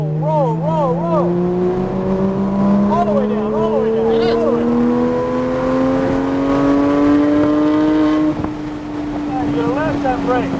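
A motorcycle engine at a training course with cones climbs steadily in pitch as the throttle rolls on, a continuous rising drone that stays loud throughout while a voice talks over it.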